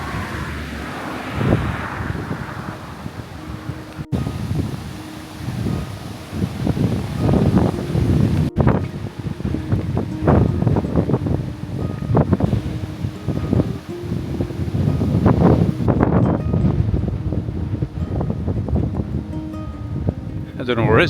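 Gusty wind rushing through trees beside a parked van, with a continuous roar and microphone buffeting that rises and falls, and a voice talking over it at intervals.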